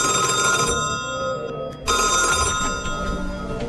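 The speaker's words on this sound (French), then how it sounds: "veiller toute la nuit sur un vieux téléphone qui n'avait jamais sonné," An old telephone rings with a bright, metallic bell, loud and steady, then breaks off briefly before ringing again, with background sound from a film scene around it.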